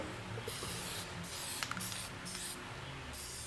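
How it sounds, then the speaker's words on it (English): Spray paint hisses from a can in several short bursts of varying length, close by and fairly loud, with faint background noise between the sprays. "so you just kind of spray it like yeah, that? just give it a little bit of spray over"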